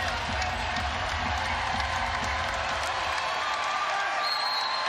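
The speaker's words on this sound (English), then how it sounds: "This crowd is coming alive." A volleyball crowd at a Baylor versus Texas match cheers and applauds in a continuous loud roar of clapping and voices, with an announcer talking over it.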